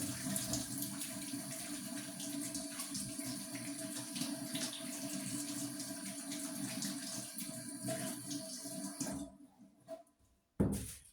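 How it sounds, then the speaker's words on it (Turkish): Tap water runs steadily into a kitchen sink as hands are washed during cooking, a close, continuous splashing rush that stops abruptly near the end, with a brief final splash. "Elimi yıkayayım ki başka işlem yapacağım."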